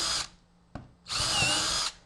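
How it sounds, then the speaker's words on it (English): A power drill bores a hole down through a wood block held on a drill-press-style guide, two loud bursts of whirring separated by a short pause with a sharp click between them. "you just drill all the way down until the drill bottoms out"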